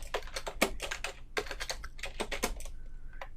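Quick bursts of keystrokes on a computer keyboard, close and clear, in irregular clusters with short pauses, ending in a brief faint tone near the end.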